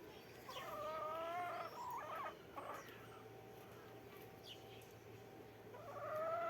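Chickens at a home coop cluck and squawk in short repeated calls near and at moderate volume, with some fainter calls and a quiet background between them.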